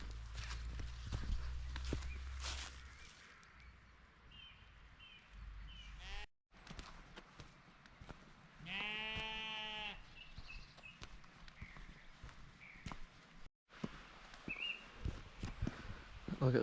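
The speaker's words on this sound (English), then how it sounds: "Just check out these sheep right here." Sheep bleat in a wild Scottish glen at Glen Esk, a single clear wavering bleat standing out amid wind and rustling ambience, moderately close, with other faint calls scattered around.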